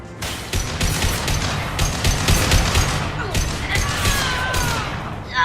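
Gunfire in Mass Effect 2 comes as rapid, dense bursts of shots over continuous combat noise, loud and close, with brief radio-style voices mixed in.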